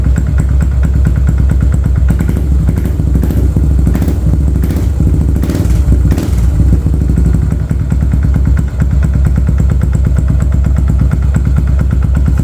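A motorcycle with a full titanium megaphone exhaust idles loudly and steadily close by, its deep, throaty exhaust rumbling with a few brief blips of the throttle.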